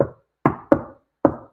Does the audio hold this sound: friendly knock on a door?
yes